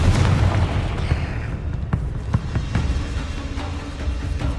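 A Confringo spell explodes in Hogwarts Legacy, a deep booming blast up front followed by several smaller bursts and pops, loud and close.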